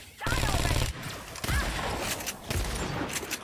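Gunfire in the video game Agents of Mayhem, loud rapid bursts filling the clip with a dense mix of game effects, while voices are heard at points.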